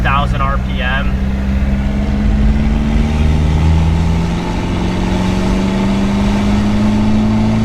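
The engine of a Mitsubishi Delica pulls in third gear from about 2,000 RPM, a loud, steady drone that climbs slowly in pitch, with a brief voice near the start.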